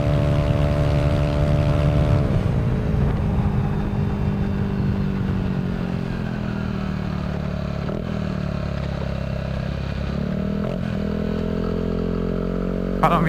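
A motorcycle fitted with a Villan SR1 aftermarket exhaust revs loudly up close, its engine note held high and then dropping to a lower throaty drone that carries on steadily.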